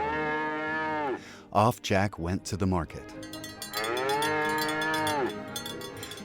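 Two long, loud cow moos used as a sound effect in a narrated telling of Jack and the Beanstalk, with a storyteller's voice speaking briefly between the two calls.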